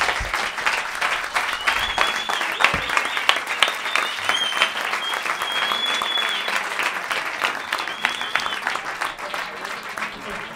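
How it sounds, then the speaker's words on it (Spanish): A comedy-club audience applauds at the end of a stand-up monologue, with sustained, dense clapping and a few whistles that hold strong throughout before easing slightly at the end. "¡Aplauso muy fuerte para Alex Clavero!"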